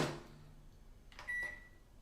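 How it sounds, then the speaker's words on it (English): A microwave oven hums quietly while warming chocolate for ganache, then a short burst of clicks and a steady high electronic beep sounds near the end. "So I just put it in the microwave for just 30 seconds"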